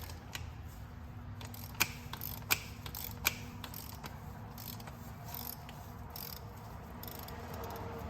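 A 36 mm socket turning a plastic oil filter cap off a 2009 Ford F550 truck with a 6.4 Powerstroke diesel, giving a few sharp ratcheting clicks and knocks over a low steady hum, close by with no talk.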